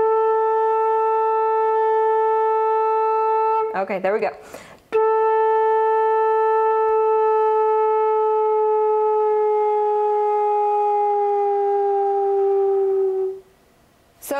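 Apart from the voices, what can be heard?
flute pitch bend from A down to G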